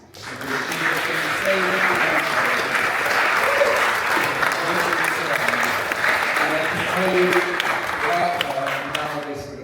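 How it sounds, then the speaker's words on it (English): A large conference audience claps steadily and loudly for several seconds, the dense applause holding at a constant level before fading at the end. "could I ask for a round of applause for Labaki, please?"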